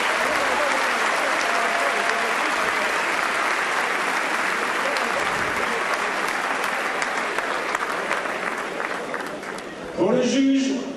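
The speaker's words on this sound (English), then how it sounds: "Très beau combat, on peut à nouveau les applaudir s'il vous plaît" A crowd at a European super welterweight boxing title bout between Christophe Canclaux and Jaume Pons applauds steadily and loudly for about ten seconds, and a voice starts speaking over the tail end.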